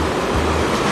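Small ocean waves wash steadily at a surf beach in Ericeira, Portugal, a continuous broadband rush of surf with wind noise and no distinct breaks.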